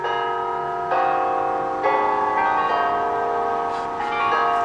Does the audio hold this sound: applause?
no